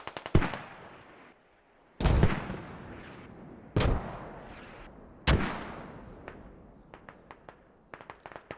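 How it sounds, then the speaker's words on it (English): Mortar fire in a military video game: four sharp, heavy blasts a couple of seconds apart, each trailing off in a long rumbling decay, followed by a quick burst of smaller cracks near the end. "they're mortaring an old head position"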